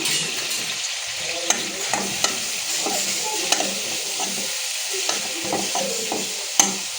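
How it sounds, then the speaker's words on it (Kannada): Onions frying in a pan for an avarekalu and tomato gojju, with a continuous close sizzle and a few sharp clicks of the spoon against the pan at irregular moments, no voices. "ಈರುಳ್ಳಿ ಚೆನ್ನಾಗಿ ಫ್ರೈ ಆಗಲಿ."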